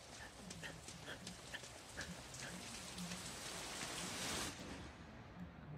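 Steady rain from the anime Bleach Thousand-Year Blood War, episode 11, hisses densely and evenly for several seconds, with a few faint patters, swelling briefly before thinning out at the end.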